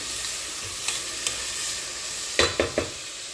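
Onions fry with a steady hiss in a pan for chicken curry, broken by a few sharp scrapes of a utensil stirring. No one speaks.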